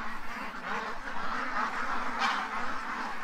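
Several ducks swimming together in a tub quack and honk in a busy, overlapping chorus close by, with no one talking.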